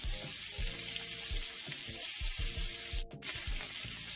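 Asparagus sizzling as it cooks in a pan, a steady close hiss of frying with faint stirring clatter and a brief break near the end.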